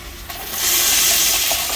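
A 2003 Eljer Signature urinal's flushometer flushes, a soft valve click followed by a loud rising rush of water that holds steady and close until the end, alone with no talking.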